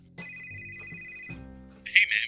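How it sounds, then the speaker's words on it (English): A phone rings with an incoming call, a sustained electronic ringtone tone followed by a second burst, then a louder bright chirping flourish at the end, fairly close and without talk. "You get a phone call."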